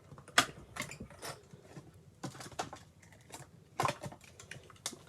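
Paper being cut out for a gate fold greeting card, with a series of sharp, quiet snips and rustles at irregular intervals, close by and with no talking.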